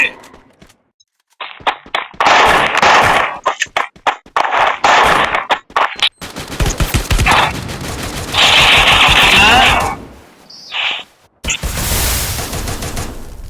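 Rapid bursts of automatic gunfire and single shots from the mobile battle game Free Fire in a 4v4 match, loud and close, in clustered volleys with silent gaps between them. Players talk over the shooting.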